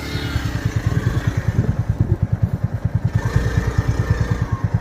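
A motorcycle rolls slowly downhill on a mountain road toward Parashar Lake, its engine putting out a loud, close, steady low thumping beat with a slight clatter throughout.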